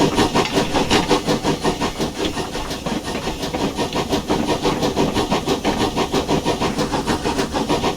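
A GWR Pannier 0-6-0T tank steam locomotive in Train Simulator Classic, with rapid rhythmic exhaust chuffs over a steady mechanical engine drone, close and loud throughout.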